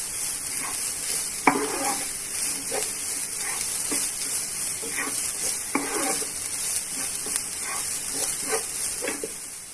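Grated coconut stirred in a frying pan for a Mangalore-style coconut banana fry, giving a steady close sizzle with irregular scraping clatters of the spoon against the pan, no talking.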